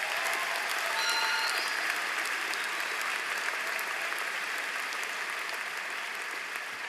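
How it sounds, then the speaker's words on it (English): A crowd at a college commencement for life sciences and agriculture applauds in sustained, even clapping that holds steady for several seconds, heard at a slight distance. "that's worth a round of applause"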